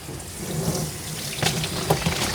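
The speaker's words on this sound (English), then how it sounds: "So I'm gonna rinse her out." Running water pours over a Coton de Tulear during grooming, a continuous close splashing rush that grows choppier and more broken partway through as the dog is rinsed, with no voices.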